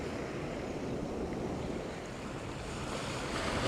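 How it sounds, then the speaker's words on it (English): Sea waves break on the shore at Felixstowe in near gale force winds, making a continuous roaring wash with steady wind noise. "They look like waves without being very nasty"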